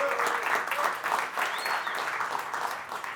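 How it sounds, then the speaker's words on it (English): A conference audience at a mixing workshop claps steadily throughout, a close, even roar of applause with a faint whistle rising partway through. "Let's give Ariel a round of applause."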